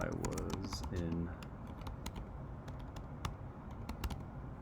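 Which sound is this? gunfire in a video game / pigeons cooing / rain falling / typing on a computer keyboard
typing on a computer keyboard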